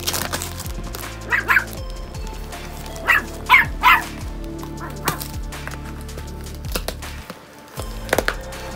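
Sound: dog barking

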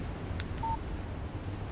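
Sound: phone text message alert in video game Alan Wake

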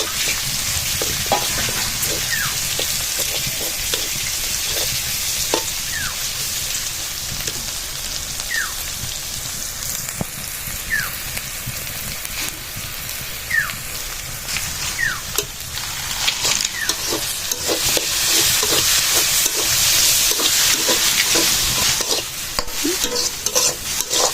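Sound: onions frying in mustard oil

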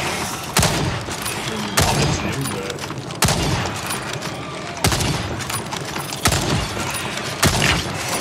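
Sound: gunfire in Second Extinction video game

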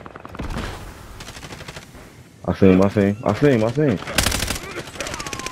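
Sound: gunfire in a video game

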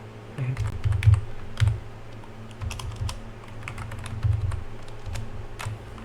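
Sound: typing code on a computer keyboard in SciTE editor

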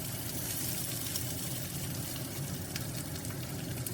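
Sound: sliced onion sizzling as it is added to frying carrot rice

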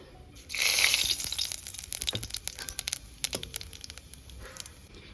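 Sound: cumin seeds sizzling in hot oil

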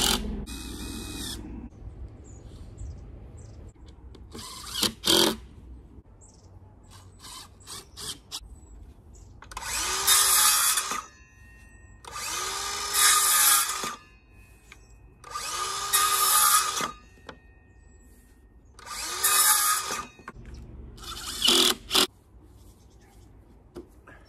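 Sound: power drill screwing together a wooden nesting box

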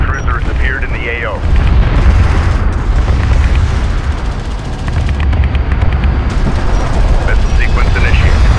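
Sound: missile barrage explosions in the video game Homeworld: Deserts of Kharak

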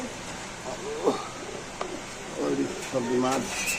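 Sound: racer pigeons cooing

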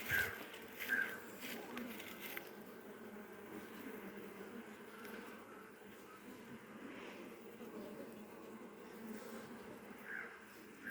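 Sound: bees buzzing at hive

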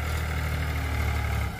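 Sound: Powertrac 439 Supermaxx tractor engine running a nine-tine tiller

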